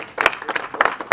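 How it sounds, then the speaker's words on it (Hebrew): A lecture audience applauds with short bursts of clapping, fairly close and loud, over roughly a second. "מחיאות כפיים"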